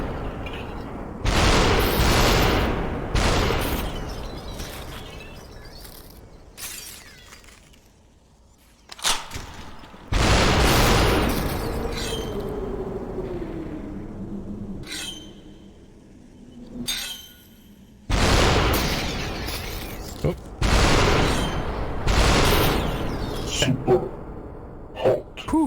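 Sharp bursts of gunshots in the virtual reality game Superhot VR, each a sudden loud crack separated by quieter stretches, with a person talking in between.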